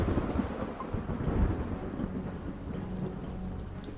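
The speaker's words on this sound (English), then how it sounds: "Oh, and there was a storm." Rainstorm with rolling thunder in the video game UnMetal, set at a dock by a slightly rough sea; steady rain hiss with deep low rumbles throughout, no voices.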